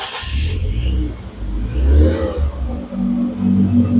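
The 1.9-litre M43 four-cylinder engine of a BMW E46 318i cranks and catches after a carbon-cleaning treatment and new spark plug caps, then revs up and settles into a steady, close idle.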